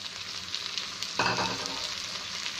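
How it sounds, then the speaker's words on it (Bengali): Potatoes and carrots frying in a pan, a steady close sizzle with a sharp louder hiss when the carrots are added, then continuing crackle without talk. "এখন এটাকে আমি একটু লবণ দিয়ে ভালো করে ভেজে নিব"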